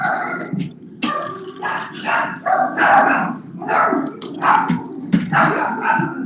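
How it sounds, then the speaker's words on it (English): Dogs indoors bark repeatedly in loud, close bursts, with short yips and a slight growl between the barks that carry on for several seconds. "I hear doggies."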